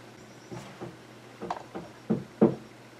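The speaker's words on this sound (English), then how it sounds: "Someone's nailing stuff into the wall." Hammering nails into a wall downstairs: a series of muffled, distant knocks, a few spaced thuds growing slightly louder toward the end, heard through the floor over a low steady hum.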